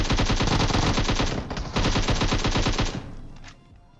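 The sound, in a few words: gunfire in video game PUBG Mobile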